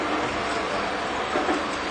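A Lionel model train runs steadily along its track, giving a continuous close rumble and rattle with no clear breaks and no speech.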